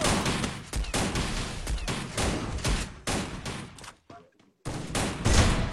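Rapid, loud gunfire from the video game Free Fire during a LAN tournament 1 vs 1 match, sustained bursts that briefly drop out before resuming.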